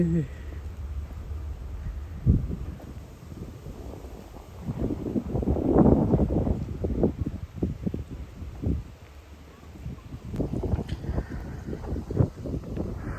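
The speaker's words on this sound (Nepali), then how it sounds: "हावा चलेर" Wind buffets the microphone in low, gusty rumbles by Tokyo Bay at a bird sanctuary in Edogawa, rising and falling throughout, with a stronger surge in the middle and scattered bumps.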